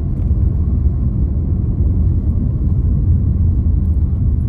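Dense evening traffic on a Delhi road: a continuous low engine rumble and road roar from many vehicles, steady and loud, with no voices.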